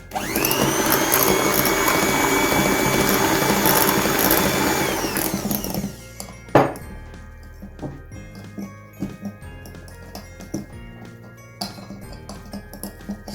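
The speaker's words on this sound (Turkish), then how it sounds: "Şimdi mikseri bırakalım." A steady electric hand mixer whirs loudly for about six seconds mixing cake batter with flour and orange zest, then stops, followed by scattered clinks and light clatter of kitchen utensils.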